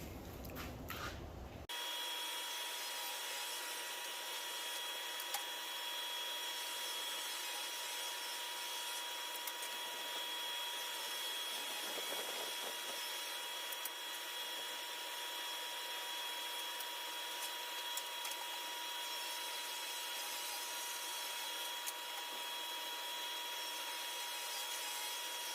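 A power saw cuts wooden French cleat pieces, a thin 1/16-inch trim pass, with a steady, even whirring roar that holds for about 25 seconds with no voices.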